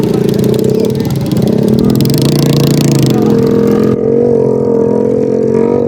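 Tractors racing on a dirt track at a village fair, a loud, continuous diesel engine drone with rising and shifting pitch, close to the listener, with a crowd murmuring faintly underneath.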